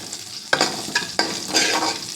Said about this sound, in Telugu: ఆవాలు, జీలకర్ర, ఎండుమిరపకాయలు, ఇంగువ అన్నీ పోపు పెట్టుకున్నాను మునగాకు పప్పుకి